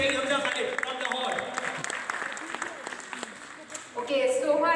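An audience claps for a school student contestant at a Pakistani quiz competition final, sustained applause that swells louder near the end, with a voice heard through it.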